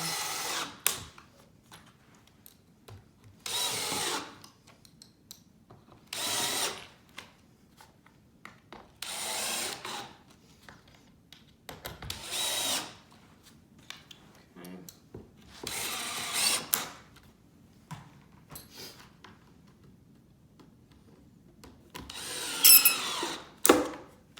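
Power drill driving screws into a wooden farmhouse corner bench, several short bursts of whirring and grinding separated by quiet pauses, with a final louder burst at the end.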